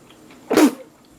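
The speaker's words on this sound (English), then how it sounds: "we had camera person sneezing" A single short, sharp sneeze bursts out close to the microphone in an otherwise quiet moment, over in well under a second.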